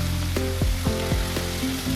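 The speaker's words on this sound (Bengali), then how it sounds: "কড়াইয়ে চিংড়ি মাছ দিয়ে দিয়েছি" Shrimp coated in salt and turmeric fry in mustard oil in a wok, giving a loud, continuous close-up sizzle with a few stirring scrapes and no talking.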